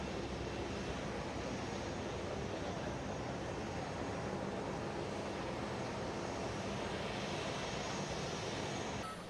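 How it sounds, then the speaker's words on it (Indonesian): A Garuda Indonesia airliner on flight GA-891 lands at Soekarno-Hatta airport, producing a continuous, even jet roar that stays steady from start to finish. "Vaksin COVID-19 tahap ke-17 tersebut mendarat di Bandara Soekarno-Hatta pada siang hari yang diangkut menggunakan pesawat Garuda Indonesia"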